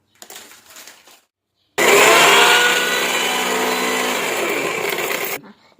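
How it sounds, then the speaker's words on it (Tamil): A loud mixer grinder roars for several seconds, crushing hard dry rusk with a harsh, rattling whir, then cuts off abruptly, preceded by brief quieter noise. "நம்ம இதை மிக்ஸி ஜார்ல ரஸ்க் வந்து நம்ம உடைச்சு சேர்த்திக்கலாம்."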